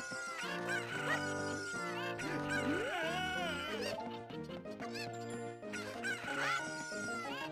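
Chickens cluck in Zelda Ocarina of Time HD, with a few bright, scattered clucks over a steady melodic game music backdrop.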